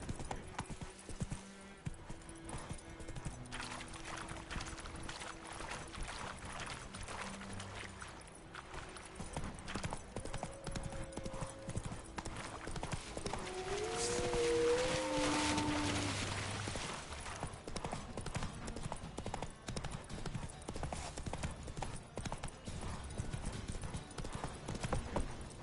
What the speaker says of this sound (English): Whoa there, Roach. Move it